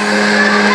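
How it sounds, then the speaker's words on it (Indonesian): A kitchen blender runs at high speed whipping pineapple juice with chili, sugar water and water, a loud steady whirring motor hum with no pauses in a short burst. "Oke, kita blender ya."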